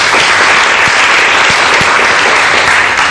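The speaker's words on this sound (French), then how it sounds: "Je voudrais qu'on t'applaudisse encore très fort." Dense, loud applause from an audience in a live café-style talk show, steady and continuous throughout with no talk over it.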